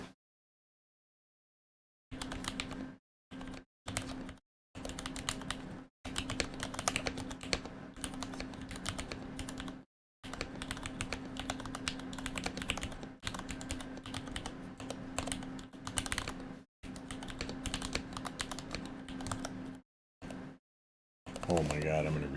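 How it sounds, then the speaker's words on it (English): Rapid clicking of computer keyboard keys in bursts broken by short silences, steady and close, with a brief voice at the very end. "It's like I'm not typing in the right place."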